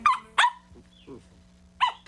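A corgi puppy gives three short, high yappy barks spaced apart, close and clear, with soft whimpery sounds between them over a faint steady hum.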